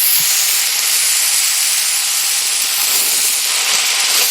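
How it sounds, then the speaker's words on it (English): A smash burger sizzles on a cast iron pan, producing a steady, loud, bright hiss that carries on without a break from start to finish. "scrape the burger up off the cast iron and flip it well"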